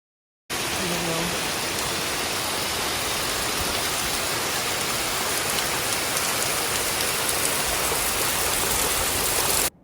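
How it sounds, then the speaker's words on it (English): A steady, dense roar of a tall waterfall in Madeira, Portugal fills the whole stretch, constant and loud like a large cascade nearby, with no pauses. "This was probably the tallest waterfall I've ever seen."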